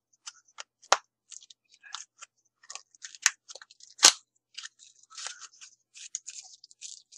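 Rii Xbox One controller charger packaging being opened by hand, a string of close, crisp plastic and cardboard crinkles, tears and snaps with a few sharp louder pops, no talking.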